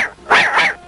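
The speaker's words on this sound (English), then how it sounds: "Snowy, what are you barking at?" A cartoon dog, the small white terrier Snowy from a Tintin animation, gives a short, sharp yip or bark, loud and close, under a second long.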